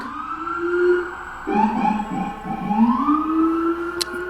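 An emergency vehicle siren, ambulance or police, wails with a rising and falling tone, sustained and fairly loud, with no one talking.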